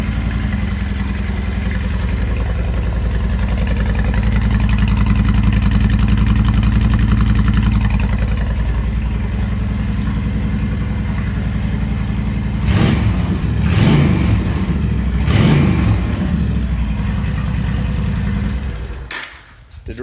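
A 2010 Honda Stateline motorcycle engine runs with a steady, loud rumble close by, then three sharp revs near the end before it cuts off.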